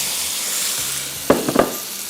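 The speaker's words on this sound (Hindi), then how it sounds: "अब इसमें शामिल करेंगे हम ये टमाटर" Tomatoes go into a pan of frying spices, setting off a steady sizzle with a few brief stirring knocks and clatters near the end, close and without talk.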